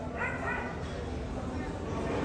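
Dogs, including a Rottweiler and a Husky, bark and yip repeatedly at moderate distance over a dense wash of outdoor noise.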